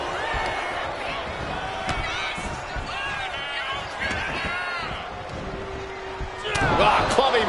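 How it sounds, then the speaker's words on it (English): Thudding impacts of a clubbing blow to the back in a WWE-style wrestling match, landing over a steady roaring arena crowd, with a louder surge of noise near the end. "Ah, clubbing blow to the back."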